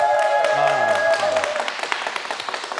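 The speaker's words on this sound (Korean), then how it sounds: "박수로 맞이해주세요." Applause in a television news talk studio greets a newly elected National Assembly member for Ulju County: a dense, steady patter of clapping that builds after a brief tonal opening and keeps going to the end.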